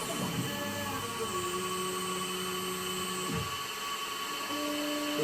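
Tormach CNC mill running a 4th-axis cycle just above the workpiece, a steady machine whine with continuous motor drone and tones that sweep up and down as the axes move, fairly loud and without speech.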